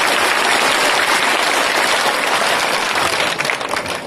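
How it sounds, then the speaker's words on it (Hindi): An audience at a naatia mushaira gives loud, sustained applause, dense clapping filling the room without a break until it thins slightly at the very end. "एक बार फिर जोरदार ताली बजा करके मुझे हुक्म देके मैं शुरू करूँ"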